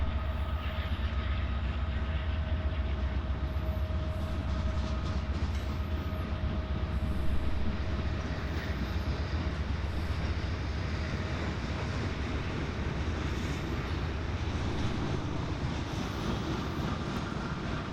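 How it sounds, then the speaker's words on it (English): Freight train led by GE and six-axle EMD SD60 diesel-electric locomotives, a steady rumbling roll of engines and wagons passing at moderate distance, continuous and unbroken with no talk. "Along with it, 6936, the 6-axle EMD SD60. That's a diesel electric that started production about 40 years ago"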